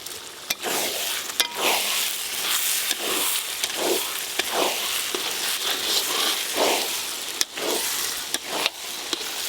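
Spice paste with sugar sautéing in ghee for chicken kosha makes a loud, crackling sizzle, with rhythmic stirring strokes and sharp clicks of a spoon against the pan.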